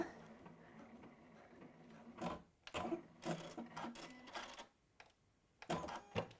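A sewing machine top-stitches an envelope pouch in short bursts of rapid, rattling stitching separated by brief pauses, close and fairly quiet, with no talking.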